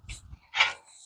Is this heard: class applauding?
no